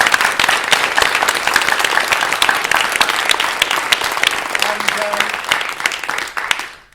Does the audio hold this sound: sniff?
no